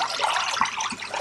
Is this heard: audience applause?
no